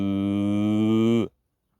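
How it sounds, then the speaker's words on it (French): A cow gives a single low, drawn-out moo lasting just over a second, loud and near, then cuts off abruptly into silence. "C'est rare que je les entende faire meuh."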